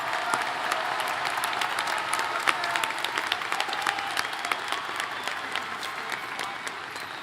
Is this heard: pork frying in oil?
no